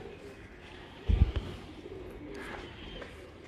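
Lal Pari breeder pigeons coo softly at close range, with low murmuring calls over a faint background and a brief thump partway through.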